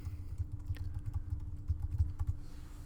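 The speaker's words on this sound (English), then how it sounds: "So enter your email address." Rapid keystrokes on a computer keyboard while an email address is entered, a close, steady run of soft clicks over about three seconds with no talk.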